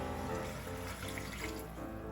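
Steady running water pours continuously into a soup pot, a broad rushing splash with no talk, like liquid filling a pot from a tap.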